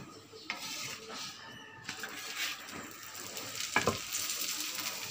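Stuffed aloo paratha frying in ghee on a hot pan: a steady, moderate sizzle with a few sharp utensil clinks and scrapes scattered through it, no voices.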